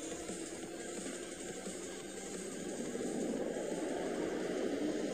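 Airplanes flying overhead in the racing game Asphalt 8, a steady broad roar of jet engine noise that swells slightly louder over several seconds, heard alone without talk.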